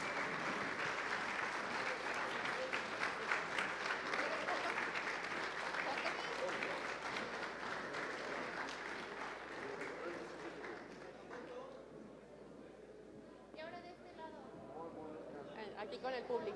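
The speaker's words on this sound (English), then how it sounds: "applause for our speakers" A conference audience at an event on investing in Mexican indie games applauds its speakers with sustained, dense clapping that gradually thins out, leaving crowd chatter and voices.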